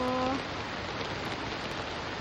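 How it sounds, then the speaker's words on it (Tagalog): Heavy rain pours steadily as a dense, continuous hiss near a swollen river in Daraitan, with a brief faint tone at the very start. "malakas pa rin ang ulan dito"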